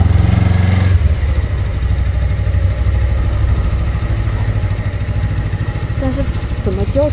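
A motorcycle engine idles steadily on a touring trip in a Latvian city car park, a continuous low rumble throughout, with a short fuller burst at the start and voices talking over it.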